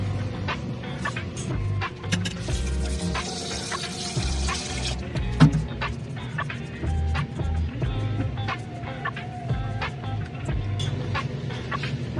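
Water is poured into the inner pot of a rice cooker, a steady filling splash with small drips and clinks of the pot, close and continuous over several seconds.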